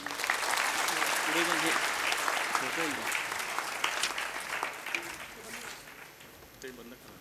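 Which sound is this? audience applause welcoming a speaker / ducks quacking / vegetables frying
audience applause welcoming a speaker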